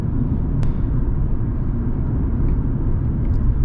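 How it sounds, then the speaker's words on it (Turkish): Inside a 2022 Fiat Egea 1.4 Easy Plus cruising on the highway, a steady low road rumble and engine hum fill the cabin evenly, with a brief click near the start and no voices. "2022 model Fiat Egea EZ Plus model aracımızla pov sürüşü yapacağız."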